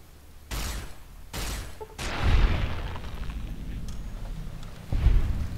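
Gunfire from a slow-firing weapon in the video game Fallout New Vegas, several loud booming shots spaced irregularly with some reverberant tail between them, no talk over it.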